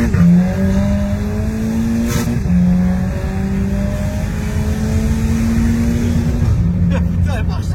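A car being pushed flat out, its engine climbing through several rising sweeps and gear changes, loud and close, with voices talking over the run.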